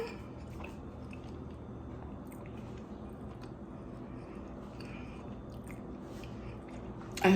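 Quiet, close chewing of a warm buttered dinner roll, with soft, moist mouth sounds continuing steadily at low level.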